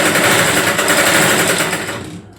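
A sewing machine runs steadily, stitching a half-seater garment in one continuous fast mechanical whir before stopping abruptly.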